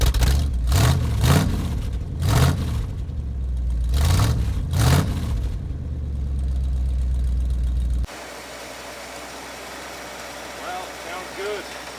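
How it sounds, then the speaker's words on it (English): An abandoned 1985 Ford F-250 4x4 with a carbureted 460 big-block V8 runs and is revved hard in a driveway, rising and falling in repeated bursts, loud and close. It then cuts to a quieter scene where someone speaks. "By the time we got the engine running, it was too late to go up to the mountains"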